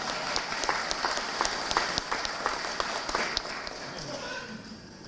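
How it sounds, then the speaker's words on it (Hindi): Audience applause at a regional awards ceremony in central India, a steady dense burst of clapping from a hall full of people, fairly near and fading slightly toward the end. "जब ताली बजना तो दिल खोल के बजाओ,"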